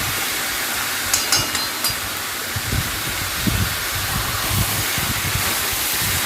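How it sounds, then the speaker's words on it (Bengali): Chicken pieces frying in a pan give off a loud, continuous broadband sizzle close up, with a few brief sharp clicks early on and occasional low bumps as the meat shifts. "এখন এরকমভাবে একটু বেশ কিছুক্ষণ ভাজা ভাজা করে"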